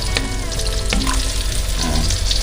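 Milkfish sizzles and spatters in hot oil in a frying pan, loud and close, with scrapes and clatters of cooking utensils over the steady crackle.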